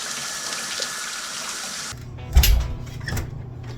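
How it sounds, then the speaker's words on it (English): Water runs in a marina shower, first as a steady hiss, then a sudden change to a fuller, splashing flow with a thump, continuing close and fairly loud to the end. "So I'm gonna shower it up."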